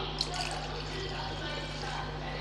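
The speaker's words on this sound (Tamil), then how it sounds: "இப்போ ரசத்துக்கு தேவையான அளவு தண்ணி சேர்த்துக்கலாம்" Water is poured into a pot of tomato rasam with mashed tomatoes, a steady, even liquid stream running close up for the whole moment beneath a constant low hum.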